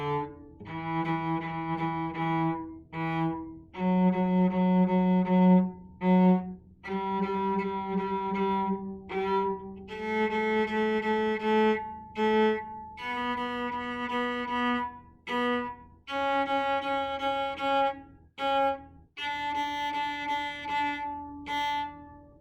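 Cello played in short, detached staccato bow strokes, moving through a simple tune in steady rhythm with small gaps of silence between notes; rich harmonics, close and clear, no talking.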